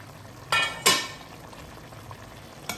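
Cauliflower and potatoes simmer in a covered pot over low heat, cooking in their own water: a quiet background bubble broken by two sharp sizzling bursts close together and a brief one near the end.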